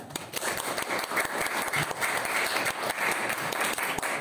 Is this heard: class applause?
yes